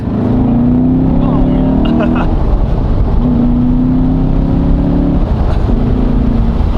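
A modified C7 Chevrolet Corvette with leaf-spring suspension drives along, its engine a steady, loud drone heard from inside the car, with pitch rising and dropping through several gear changes.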